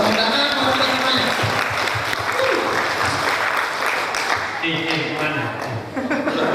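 An audience claps at a Facebook marketing workshop launch event in Serang, a continuous crowd of applause with some talk and chuckling woven through it.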